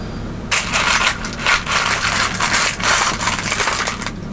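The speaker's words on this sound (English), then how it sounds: "Oh, tipping coins everywhere." A pile of world coins tips and spills, clattering and jingling continuously in close, loud bursts for several seconds.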